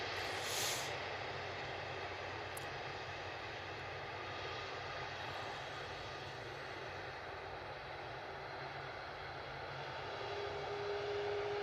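Airliner arriving at Manchester Airport, a steady distant jet engine roar and rumble holding throughout, fairly faint and even, with no voices.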